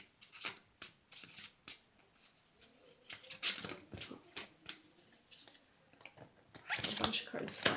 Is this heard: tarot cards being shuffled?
yes